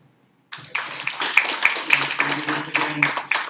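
Audience applause at an economic symposium fintech panel in Palau, starting abruptly after a short silence and continuing as steady clapping from a room of people, with some voices mixed in beneath.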